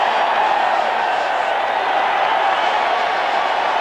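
Stadium crowd at a 1986 Rams versus San Francisco football game roars steadily and loudly, a dense continuous wash of cheering and whooping with no breaks.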